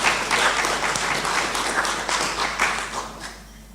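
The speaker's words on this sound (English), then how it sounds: "I think she deserves another hand of applause." Conference audience applauds after a speech, a full round of steady clapping that fades out toward the end, with no talking over it.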